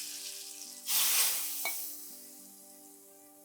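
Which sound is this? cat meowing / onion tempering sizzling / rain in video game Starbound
onion tempering sizzling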